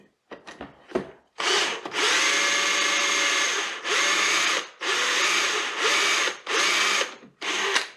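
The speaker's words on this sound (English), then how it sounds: "from the other side, I make the concavity with the metal drill bit." A metal drill bit bores a concavity into a wooden bead mounted on a rod, giving several loud, steady bursts of drilling, each a second or more long, separated by short pauses, after a few brief taps at the start.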